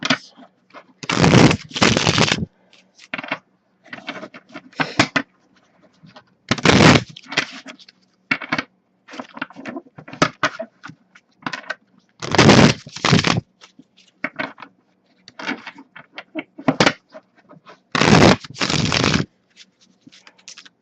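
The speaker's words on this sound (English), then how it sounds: "you will see me bridging all of my decks if I can. It's just how I shuffle." A deck of tarot-style reading cards is bridge-shuffled over and over, each riffle a loud burst of rapid flutter followed by softer clicks and handling noises, close up.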